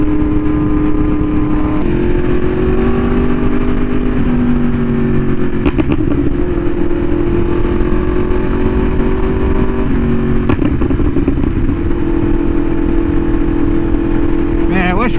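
A Yamaha R1M sport bike fitted with an SC Project exhaust cruises on a scenic road, its engine droning steadily with slight shifts in pitch and a few gear changes, loud and close throughout.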